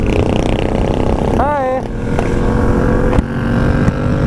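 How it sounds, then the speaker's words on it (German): A Yamaha motorcycle engine runs loudly up close, its steady roar broken by a couple of sharp exhaust pops, with a brief voice heard. "Die ist die ganze Zeit am Knallen."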